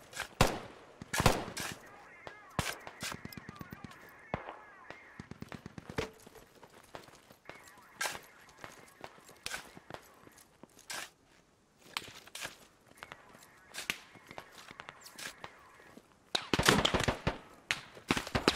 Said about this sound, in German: Oh, AK fire.